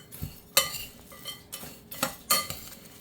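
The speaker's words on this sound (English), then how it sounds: "So now we're just going to give that a good stir." A spoon stirs a bowl of chocolate chips, caramel bits, coconut, pecans, graham cracker crumbs and pretzel pieces, giving several sharp clinks and scrapes against the bowl in an irregular rhythm, close and fairly loud with no talk.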